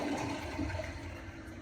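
A toilet flushes with a soft, brief rush of water, heard faintly and alone.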